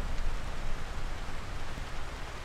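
Rain from the weather effect in GTA San Andreas, a dense, even hiss of falling drops that stays steady and fairly loud throughout, with no voices.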